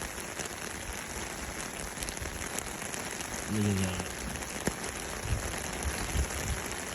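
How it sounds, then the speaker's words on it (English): Heavy rain pours down steadily during a fishing outing in the Pacific Northwest, a dense, even hiss throughout with a brief voice speaking partway through. "It's just pouring down rain right now."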